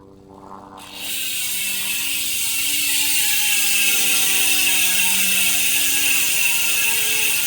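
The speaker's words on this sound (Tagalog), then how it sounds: "So, i-check natin yung tunog na ito, idol, kapag naka-free wheel." A Sword SC mountain bike rear hub freewheeling, its ratchet pawls giving a fast, steady buzz of clicks close up that starts abruptly after a brief quiet moment and carries on evenly to the end.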